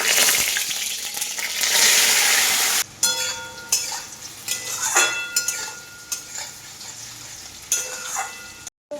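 Lightly steamed vegetables fry with panch phoron in a wok, a loud sizzle at first, then softer frying with repeated spatula scrapes and clinks against the pan.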